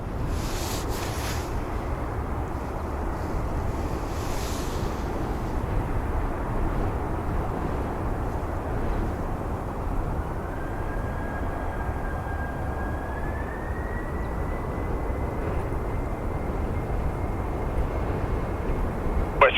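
A FedEx airplane taking off from the runway, heard from a distance as a steady, broad roar of jet engines with wind noise, a faint rising whine appearing midway.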